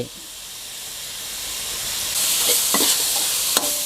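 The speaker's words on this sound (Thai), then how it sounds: "พอน้ำเริ่มงวดแล้ว เราก็ผัดสักหน่อยครับ ใส่น้ำมันหอยนะครับ" Pork belly with oyster sauce sizzles in a pan, a steady hiss that swells louder as it is stirred, with a few soft scraping knocks near the end.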